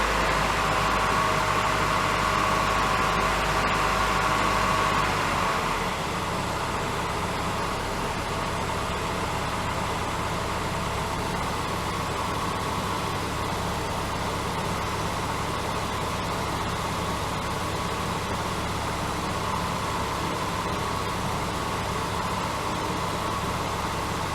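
A car engine under electronic throttle control settles from a raised 2000 rpm back down to idle, the louder revving hum dropping after about five seconds into a steady, even idle drone.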